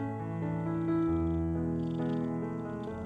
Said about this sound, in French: mon chat m'a rejoint pendant que j'enregistre ce voice-over